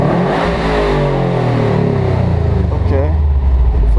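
A Subaru WRX fitted with a Cobb Accessport revs hard against its two-step launch control limiter near 3,000 RPM, a loud, steady, close engine drone with a pitch sweep partway through.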